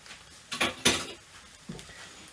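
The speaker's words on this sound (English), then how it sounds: "we're just going to stir that into that" Crème fraîche being stirred into a pan sauce for pork steaks with gin and coriander, heard as a few brief clinks and scrapes of a utensil against the pan, close and fairly quiet.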